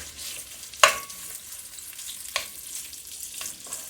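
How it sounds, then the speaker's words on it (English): Beef sausage and bacon frying in a pan: a soft, constant sizzle broken by a few sharp pops and crackles, one loud spit early, then smaller bursts. "I'm going to go ahead and add our beef sausage in here and let that cook"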